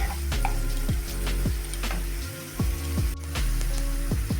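Carrots frying in a pan for chirer polao, a close, steady sizzle with repeated scraping strokes of a spatula at a regular rhythm, no talking.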